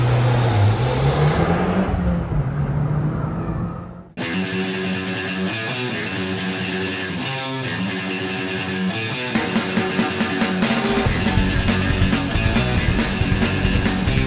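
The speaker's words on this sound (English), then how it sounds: "Today it's Firebird International Raceway, and I'm going to go rip an Evo." Mitsubishi Evo 10 driving hard at Firebird International Raceway, its loud engine climbing through revs in sustained pulls with a clear gear change partway through, heard from inside or close to the car.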